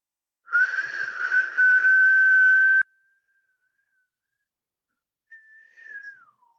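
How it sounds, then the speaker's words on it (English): A person whistles a long, steady tone while drawing breath in, loud and close for about two seconds, then after a pause gives a shorter, gliding whistle that falls in pitch. "I see some nice long whistles."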